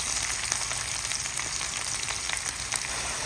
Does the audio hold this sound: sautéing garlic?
yes